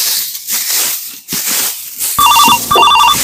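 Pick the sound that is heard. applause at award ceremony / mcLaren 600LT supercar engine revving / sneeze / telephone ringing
telephone ringing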